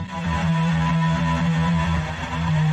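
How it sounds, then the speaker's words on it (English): A heavily distorted electric guitar sustains a thick, buzzing drone with a strong low hum, loud and continuous with no pauses. "And with distortion!"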